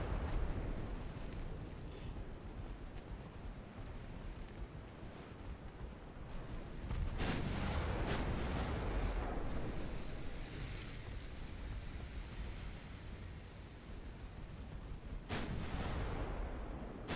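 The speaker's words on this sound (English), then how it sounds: "Secondaries can fire at the light cruiser." Secondary guns on a warship fire at a light cruiser in a naval video game, heard as a few sharp booming blasts over a steady roar of sea and engine noise, with no talking.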